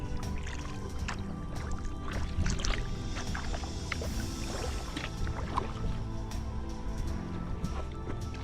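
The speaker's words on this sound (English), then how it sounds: "we're paddling against current now" Quiet rhythmic splashes and drips of a kayak paddle dipping into the New River in eastern North Carolina, paddling against the current, repeating steadily over soft flowing water.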